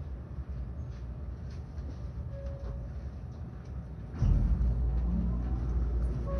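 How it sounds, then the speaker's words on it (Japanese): The low, steady rumble of the Odakyu Romancecar Enoshima express train running between Fujisawa and Sagami-Ono, heard from inside the carriage, swells louder partway through. "この電車は特急ロマンスカー江ノ島10号新宿行きです。"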